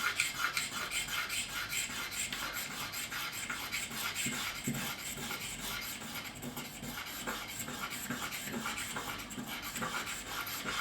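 Lacquer being scraped by hand off the neck of a Stratocaster guitar, a steady rasping, rubbing scrape repeating in quick strokes, close and fairly quiet, with no talking.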